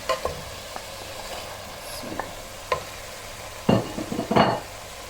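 Potatoes and mixed vegetables dropped into a hot pan and stirred, with a continuous sizzle broken by spoon scrapes and clatters against the metal that grow busier toward the end, close and clear.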